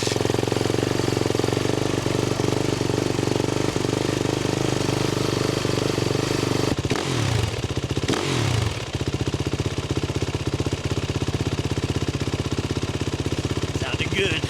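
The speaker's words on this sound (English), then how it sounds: "let's fire up the old girl," Suzuki RMZ450 dirt bike engine, first steady and clattering at idle, then briefly blipped partway through before settling into a rapid, rattly idle, close by.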